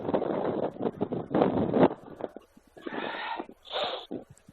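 Gusty wind buffets the microphone at Concord Oval rugby ground on a windy day, arriving in heavy rumbling bursts that drop away between gusts.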